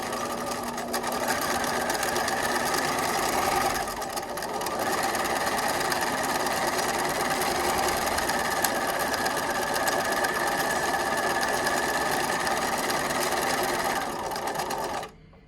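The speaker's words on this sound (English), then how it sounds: "I'm going to use the edge of my presser foot as my guide, just so I know it's nice out of the way basting." A sewing machine bastes the cuff of a fleece beanie, a steady rapid mechanical whirring and needle chatter that runs continuously with a brief slowdown near the start, close and alone until it stops at the end.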